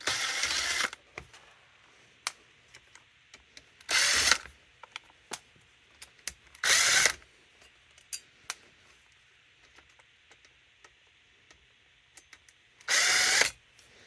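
A power driver with a number 1 Phillips bit backs screws out of the speedometer of a 1992 Dodge D150 truck, giving four short loud whirring bursts spaced several seconds apart, with faint clicks and handling noises in between.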